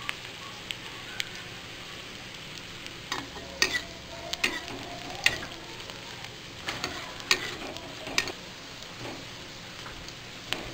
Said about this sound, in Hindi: प्याज हल्का ब्राउन होने लग गया है